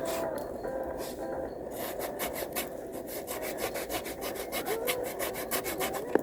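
Japanese pull saw cutting wood with quick, rhythmic rasping strokes, close up and steady, a few slower strokes at first then a faster regular back-and-forth cadence.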